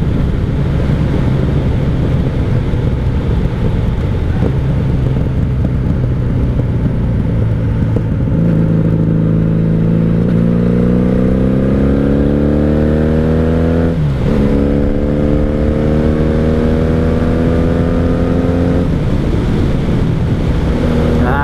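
A 1997 Honda Magna 750 VF750C cruiser motorcycle engine while riding: a loud, steady V-four drone under rushing wind, with revs climbing through the gears, a brief dip at a shift, then rising again.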